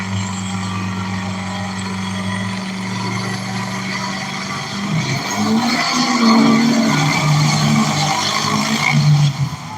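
Diesel pickup trucks, including a white Dodge with a 5.9 Cummins and a red Ford, race down a Pennsylvania track, their loud engines droning steadily and then swelling as they roar past.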